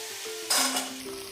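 Kidney beans tip into a pan of frying spices, setting off a sudden burst of loud sizzling. The sizzle then settles into steady frying over a faint tonal hum.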